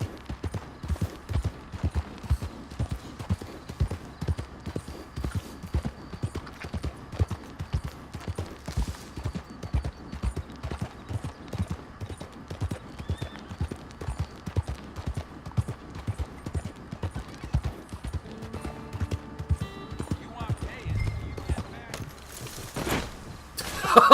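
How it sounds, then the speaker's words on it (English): A horse gallops in the Western video game Red Dead Redemption 2, its hooves giving a steady, rapid, rhythmic pounding throughout. Near the end the pace breaks up and a few louder thuds follow. "I forgot to slow down the horse"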